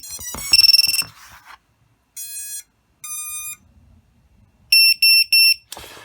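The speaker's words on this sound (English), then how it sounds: "the beeping is at its full volume on the Vifly Finder 1, and it does not ever change" Loud, shrill electronic beeping from a VIFLY Finder drone buzzer at full volume, in short bursts separated by silent gaps, ending in a quick triple beep pattern, close and piercing.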